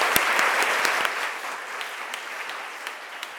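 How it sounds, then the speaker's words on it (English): Audience applause closing a workplace diversity panel, steady clapping from a room of people, strongest at the start and gradually thinning out. "Let's give them another round of applause."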